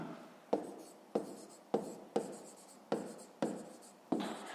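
Chalk writing on a board during a fifth-grade math lesson, seven distinct scratchy strokes in a steady rhythm, each starting sharply and trailing off, close and clear with no talk.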